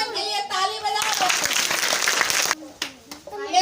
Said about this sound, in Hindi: बच्चों के लिए ताली बजाओ।